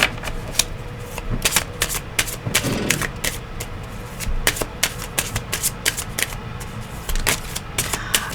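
Tarot cards are shuffled by hand in repeated crisp riffles and snaps, irregular bursts of papery flicks close up with brief pauses between, with faint background noise.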